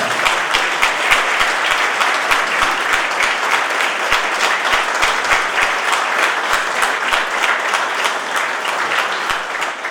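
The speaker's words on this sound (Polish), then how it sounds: "Wielki brawo" A church audience at a Saint Barbara parish anniversary celebration claps loudly and steadily for the composer of a parish hymn, a dense, sustained round of applause lasting the whole stretch without voices over it.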